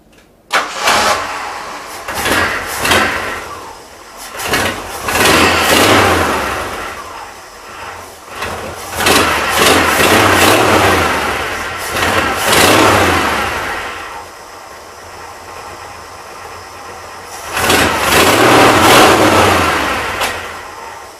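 A Ford 4.2 liter inline-six with headers, a two-barrel carburetor and a bad exhaust header leak starts and revs in repeated loud bursts, dropping back to a rough, ticking idle between each blip.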